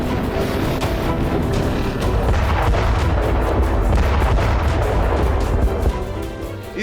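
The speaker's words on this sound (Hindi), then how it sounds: "बम, गोला बारूद, मिसाइलें और रॉकेट लॉन्चर से ताबड़तोड़ प्रहार हो रहा है।" Heavy war bombardment with bombs, missiles and rocket launchers: dense, continuous rumbling blasts and cracking booms overlapping throughout, loud and sustained without letup.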